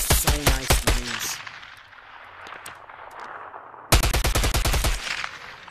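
Rapid bursts of suppressed gunfire from a Hemlok in the VR game Bonelab, sharp clipped shots in two quick volleys separated by a quieter stretch with faint mechanical clicks.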